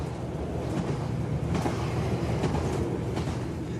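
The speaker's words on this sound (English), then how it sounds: "As the train makes its way," A passenger train runs steadily along the rails through the countryside, heard as a constant dense rumble with faint periodic clicks of the wheels, loud and close, as from inside a carriage.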